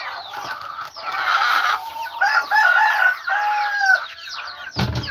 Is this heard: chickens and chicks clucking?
yes